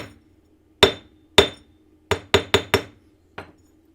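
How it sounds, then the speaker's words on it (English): A small mallet strikes metal to hammer it flat on a jeweller's bench, six sharp ringing taps in two groups plus a lighter seventh, close and clear with nothing else audible. "I'm just going to put on here my little baby mallet"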